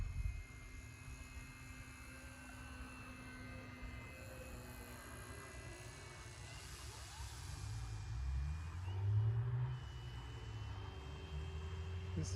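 A Noob Wonder 2 model airplane on its maiden flight runs at half throttle, giving a steady, faint motor drone over outdoor background noise that swells briefly as it passes nearer.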